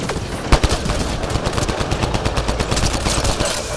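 Rapid gunfire in the Mass Effect Andromeda video game on Xbox Series X, loud bursts of shots crackling continuously over a dense battle din with a strong hit near the start.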